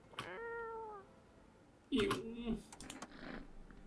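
A cat meows in the video game No I'm Not a Human: a drawn-out, clear meow near the start. It is followed by a louder burst of other game sounds and scattered clicks.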